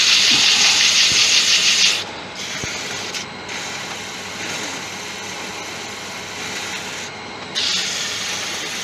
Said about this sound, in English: Got some 150. Quick sanding.